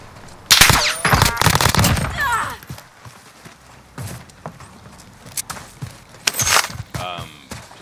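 Rapid video-game gunfire aimed at a wall during a battle-royale match in Caldera, sharp bursts of automatic shots clustered early and again near the end, with scattered single shots and footstep-like thumps between; a voice is heard faintly.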